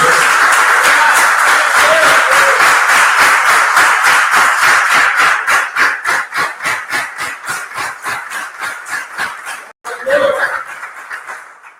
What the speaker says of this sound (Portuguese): Se você puder aplaudir o Senhor mais uma vez, eu te agradeço.